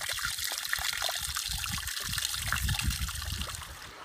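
A small river flows in the Rhodope mountains of Bulgaria. Its water rushes and trickles steadily and close by, a continuous broad wash with small burbling splashes throughout, and no voices.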